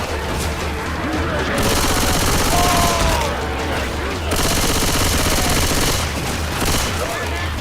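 Rapid automatic gunfire rattles in Call of Duty Cold War, loud sustained bursts with short pauses between them, close and dense, with a voice talking underneath.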